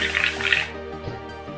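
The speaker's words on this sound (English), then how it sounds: "tip your paint out, bit of water again, bubble back like that, blast through, and your brush is clean in seconds" An airbrush bubbles water back through its cup to flush out red paint, giving a quick burst of bubbling and hissing air that trails off into soft gurgles, close and brief.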